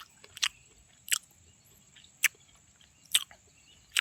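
Roasted oil palm fruit being eaten, with five distinct crunchy bites spaced about a second apart, close to the ear. A steady faint high tone runs underneath, and no one speaks.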